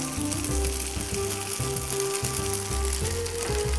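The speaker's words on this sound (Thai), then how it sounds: "ผมก็จะผัดกับน้ำมันงานนิดนึงนะครับ ประมาณสักหนึ่งช้อนโต๊ะนะครับ" Cooked rice stir-fried in about a tablespoon of sesame oil in a pan, a steady loud sizzle with rhythmic scraping and clanking of the utensil against the pan, no talking.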